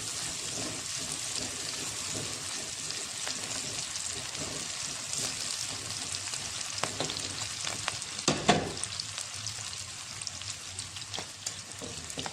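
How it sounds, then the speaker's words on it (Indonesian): Steady sizzling of spices frying in a pan, with scraping and clinking as they are stirred, continuous and close. "Aduk, goreng sampai bumbunya harum."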